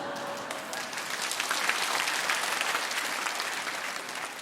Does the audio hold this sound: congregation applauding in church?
yes